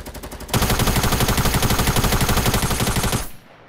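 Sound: rapid assault rifle fire in the Fortnite video game

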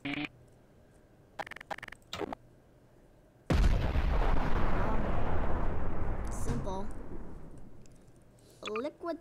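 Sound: JDAM bomb explosion in Garry's Mod video game

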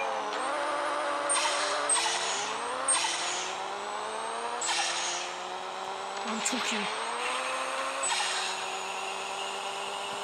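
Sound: motor running

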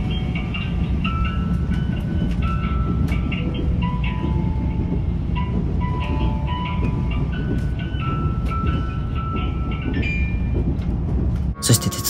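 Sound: Yakumo limited express train running on rails

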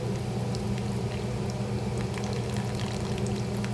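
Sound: tamarind water poured into potato curry

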